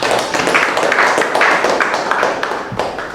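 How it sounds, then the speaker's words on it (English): Applause from a soft-skills masterclass group, dense pattering claps sustained throughout, fairly loud and close, with a few sharper taps standing out. "Let's give you a round of applause"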